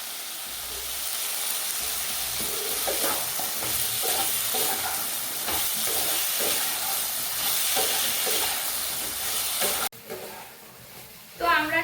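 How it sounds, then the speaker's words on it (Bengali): Hog plums (amra) fry in ghee for a pickle, giving a steady close sizzle with faint stirring scrapes that ends abruptly near the close, followed by a brief bit of clatter. "তো আমড়াটা আমি 5 মিনিট ভেজে নিয়েছি।"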